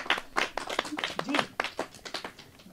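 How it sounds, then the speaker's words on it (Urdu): Scattered clapping from a small group for a child who wants to become a doctor, on a Pakistani children's radio-on-TV show, short uneven bursts of claps close by with some voices mixed in. "تالیاں ہوئیں ڈاکٹر صاحب کے لیے"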